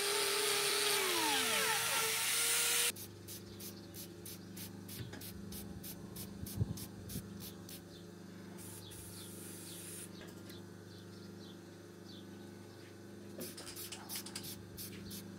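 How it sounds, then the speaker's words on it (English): A chlorhexidine spray flushes out a cow's hoof after stones are removed, giving a steady close hiss with repeated short spray bursts and faint dripping, under a low background hum. "This is me just using my chlorhexidine spray just to try and flush any of these last"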